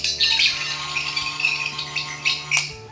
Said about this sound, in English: Pressing the button twice in quick succession produces the new diagnostic sound.